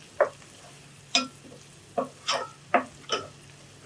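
Onions being sautéed in a pan give sharp, separate scraping and stirring clicks, about eight in four seconds, close over a quiet background hiss, with no talking.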